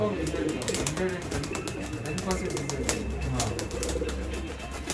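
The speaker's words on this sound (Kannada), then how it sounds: "ಒಳ್ಳೆ ಲೈನೇಜ್ ಪಟಾಗಳು ಇದು" High-lineage racing pigeons coo softly in low repeated calls against a steady background hum, with some light rustling and faint clicks.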